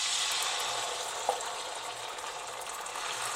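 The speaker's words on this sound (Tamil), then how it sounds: "இப்போ எண்ணெய் சுட்டுருச்சு, நம்ம அடை ஊற்றிடலாம்." Adai batter sizzles steadily in hot groundnut oil on a pan, a dense, continuous frying hiss at close range with one small tap near the start.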